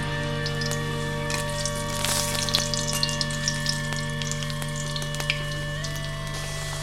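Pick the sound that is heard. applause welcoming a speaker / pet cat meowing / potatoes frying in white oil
potatoes frying in white oil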